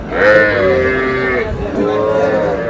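A red bull calf at a cattle farm moos loudly and close by, two drawn-out calls in quick succession with no talk over them.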